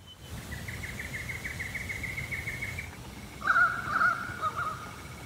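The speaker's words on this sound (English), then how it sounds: "I think it's much better to listen to the birds," Birds call near a quiet creek on Cowan Creek: a steady thin tone at first, then a few louder, sharper calls at moderate distance over a soft background hush.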